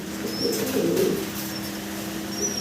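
Pigeons sold with eggs and chicks coo close by in low, throaty, repeated calls over a steady background hum, with faint chirps higher up.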